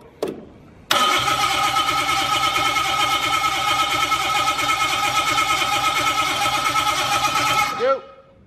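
A motor being cleaned up fires after a brief clunk and runs cold at full throttle, a loud, unbroken roar held for about seven seconds before abruptly cutting off.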